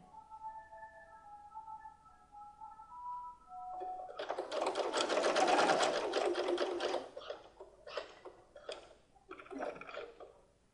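An electric sewing machine stitches a fabric strip onto a portfolio-style pocket, running in a steady whirring burst before stopping and starting again in short runs, preceded by faint tonal hum.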